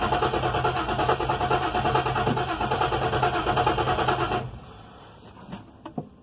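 A car engine fitted with a Holley 600 carburetor runs roughly at a steady, loud idle for about four seconds, then cuts down sharply to a faint sputter with a couple of brief pops near the end.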